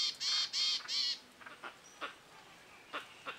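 A small bird at a hide near Kaeng Krachan National Park, Thailand, gives three loud, closely spaced harsh calls close by, followed by fainter scattered chirps and splashy sounds.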